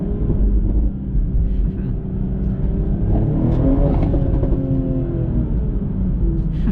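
A tuned BMW G42 M240i engine rumbles loudly up close at night, with a low, throaty exhaust burble that rises and falls as the throttle changes.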